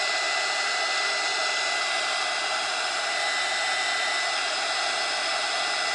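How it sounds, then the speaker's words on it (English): A heat gun blows hot air over a resin art piece, a steady, loud, broadband whooshing roar that runs unbroken throughout. "I'm going to hit the red heart on the outside with my blow dryer."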